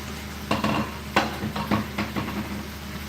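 Squash, zucchini and onions fry in a pan while a utensil stirs them, producing a steady sizzle with several sharp scraping clinks against the pan, close up and without talk.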